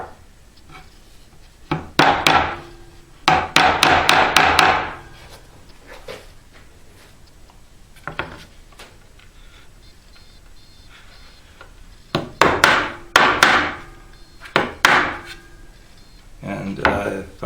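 Sharp bursts of rapid hammering drive pins into pilot-drilled wood of a custom ES-335-style guitar, in several clusters with quiet pauses between; close and fairly loud, a few lone taps in between.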